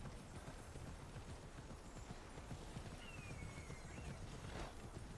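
A horse's hooves clip-clop at a steady pace in the video game Immortals Fenyx Rising, a soft rhythmic beat under a wash of game ambience and wind, with a faint whinny near the end.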